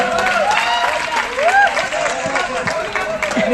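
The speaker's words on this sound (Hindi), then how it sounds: "एक बार जोरदार ताली अशोक सर के लिए हो जाए।" An audience applauds a guest at a BPSC interview guidance event, a dense burst of clapping and cheering with voices mixed in.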